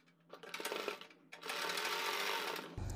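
A sewing machine stitches kurti fabric in short bursts: a brief run, a pause, then a longer steady whir at close range, ending with a low thud.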